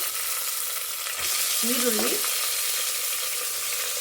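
Garlic and onion with cumin frying toward golden brown for tomato rice, a loud steady close sizzle that swells slightly partway through, with a brief stirring sound over it.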